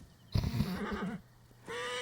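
A horse in the video game Assassin's Creed lets out a whinnying neigh, a rising and wavering call followed by a softer snort, heard fairly close with no talking.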